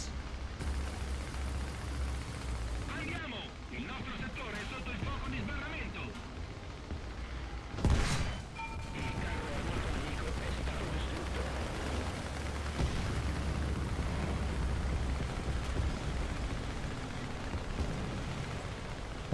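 A distant American 75 mm tank gun fires once in War Thunder, a sharp boom standing out from steady engine rumble and battle noise while someone talks.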